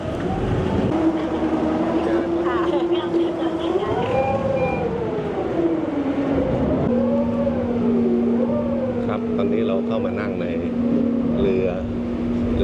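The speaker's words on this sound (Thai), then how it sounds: "เรือไฟฟ้าครับ โอ้ เสียงดังมาก" A loud whining electric motor of the MINE Smart Ferry electric boat hums with shifting pitch, droning steadily beneath rumbling machinery and occasional voices.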